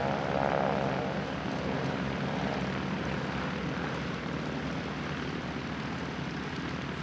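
An airshow biplane carrying wingwalkers flies past, a steady, loud propeller engine drone that holds evenly throughout, broad and rumbling with no voices over it.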